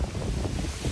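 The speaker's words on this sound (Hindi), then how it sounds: "यहाँ पे ये देखो इतनी तेज हवा चल रही है" Strong wind buffets the microphone outdoors in Perth, a low rumbling gusty roar filling the short moment, near and steady, with no one speaking.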